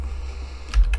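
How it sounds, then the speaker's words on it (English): Two quick key presses on a computer keyboard near the end of a second, entering a date into a print template, close and clear over faint room hum. "and then add more text, and we'll type in a date"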